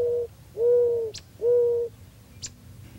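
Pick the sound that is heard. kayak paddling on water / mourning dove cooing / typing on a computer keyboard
mourning dove cooing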